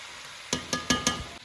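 Mixed pickle with spices being stirred in hot oil in a pan over gentle heat: four sharp scraping, clinking strokes in quick succession over a soft sizzle, close and alone.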